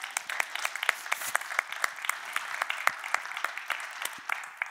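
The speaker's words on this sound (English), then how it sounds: "I think you all should be applauding yourselves." An audience at a talk on design and raw materials applauds, with distinct, crisp hand claps at a brisk, slightly uneven rhythm. The clapping is fairly close and moderately loud, with no voices over it.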